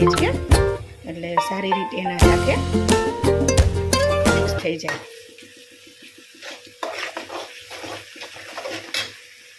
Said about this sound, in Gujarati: મેં અંદર મૂકી દીધી છે તળવા થોડી ડુંગળી